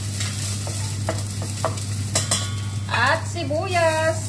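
Garlic fries in a pan with a bright, steady sizzle and a few light stirring taps, close up over a constant low hum.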